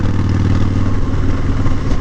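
A motorcycle fitted with a Klock Werks Flare windshield cruises on the road, its engine droning loud and steady with rushing wind noise throughout.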